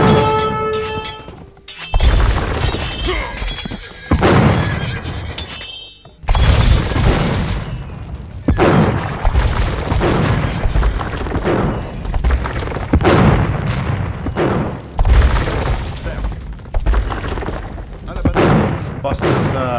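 Bombard cannons firing in the Age of Empires II video game: repeated heavy booms and crackling blasts in a dense, loud barrage, with voices talking over the battle.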